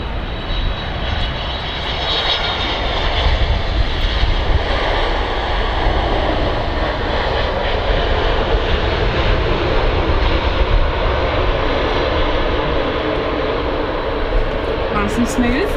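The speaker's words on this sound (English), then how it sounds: "TUI 767 coming in." A TUI Boeing 767 airliner comes in to land at Manchester Airport with a loud, sustained jet roar and whine that stays strong throughout. A voice talks over the engine noise.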